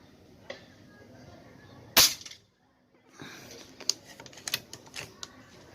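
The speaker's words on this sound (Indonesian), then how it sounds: "Tembakan kedua, sekarang tembakan ketiga." A single sharp crack of an MkII air rifle firing during an accuracy test, loud and close, followed by silence and then a run of lighter clicks and taps.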